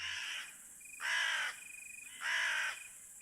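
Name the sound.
crow cawing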